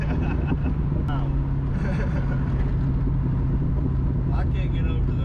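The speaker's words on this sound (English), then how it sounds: "I can't get over those pops. Custom exhaust. It sounds so awesome." A 1996 Mustang GT with a custom exhaust rumbles loudly and steadily up close, with a few sharp pops breaking through the low drone and people talking over it.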